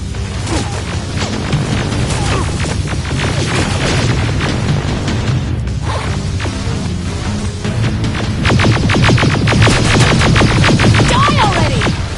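Loud, dense game combat on PS5 with deep booming grenade blasts and bursts of crashing debris, a constant heavy rumble that swells louder near the end.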